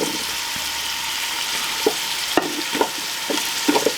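Red onion sizzling with ginger and garlic in a Ninja Foodi multicooker, a steady close frying hiss broken by a few clacking stirs and scrapes toward the end, no voices.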